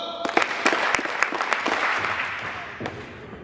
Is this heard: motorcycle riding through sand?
no